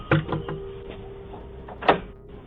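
A man outside punches a locked front door: two sharp knocking thuds, the first near the start and a louder one about two seconds later, with a faint hum between them and no talk.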